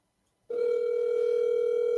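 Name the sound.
telephone dial tone while placing a call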